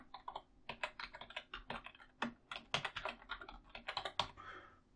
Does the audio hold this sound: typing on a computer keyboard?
yes